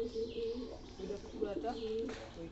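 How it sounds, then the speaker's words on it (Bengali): Several pigeons gathering near coconut trees coo softly and repeatedly at close range, making low, rounded, overlapping calls that continue throughout. "এই 5টা কবুতর আসছে এখানে"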